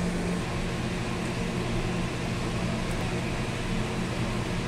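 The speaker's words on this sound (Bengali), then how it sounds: "এবার এগুলো ভালো করে পিষে নেবো মিহি করে।" Coriander leaves and spices ground to a fine paste in an electric grinder for green egg curry, a steady loud whirring drone with no break and no voices.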